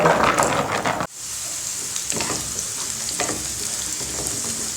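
Garlic fries in hot sesame oil: a burst of loud crackling drops abruptly to a steady, close sizzle, with occasional stirring scrapes and no voices.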